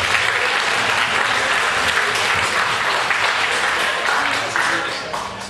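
An audience applauds steadily at an unplugged retro Saint Nicholas party concert, with dense, loud clapping that carries on for several seconds and eases off slightly at the end.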